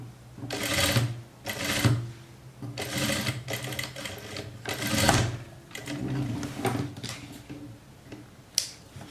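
A sewing machine stitching a jumpsuit runs in several close, loud bursts of rapid mechanical needle chatter, separated by brief slowdowns, with no talking over it.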